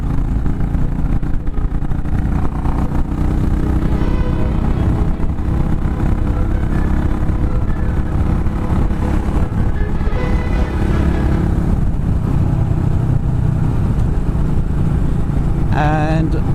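A Royal Enfield Bullet 500 motorcycle rides along a road, its engine a loud, steady low rumble mixed with wind noise that carries throughout, with a few brief pitch rises as it changes speed.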